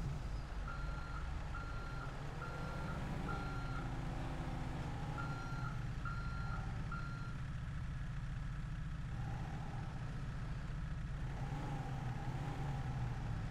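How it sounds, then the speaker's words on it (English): Trucks in GTA 5 reverse with repeated rhythmic backup beeps over a low, steady idling engine rumble, fairly close and continuous with no talking. "Man, what's with all these trucks?"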